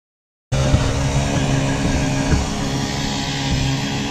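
A landscape curbing machine's engine starts abruptly and runs steadily at a constant drone, loud and close, while the machine is pushed uphill around a corner with little traction.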